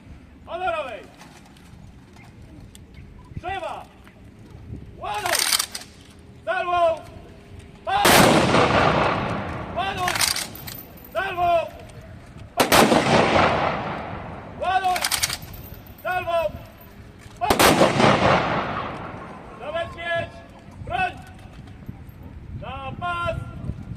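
An honorary rifle salute volley rings out at a Polish Army Day ceremony in Poniatowa, three loud outdoor volleys spaced a few seconds apart, with shouted commands heard between the shots.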